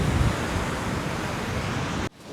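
Ocean swell crashing against coastal rocks at a rock fishing spot, a loud continuous roar of surf and wind wash that cuts off sharply near the end.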